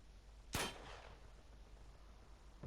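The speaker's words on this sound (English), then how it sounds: "Shoot the lock." Single sharp gunshot fired at a lock in the video game Uncharted 2, a loud crack with a short decaying tail, then quiet, with a faint second knock at the very end.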